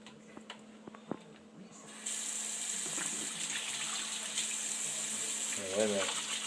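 A pet bird bathes in water, with small scattered splashes and drips at first, then a steady running-water wash begins and continues, faint and close, with a brief flutter near the end.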